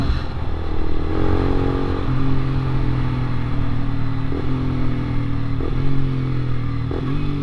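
A 2013 Honda CBR 250R sport motorcycle roars steadily close by, its engine note rising under throttle and dropping through several quick downshifts, with faint mechanical clatter.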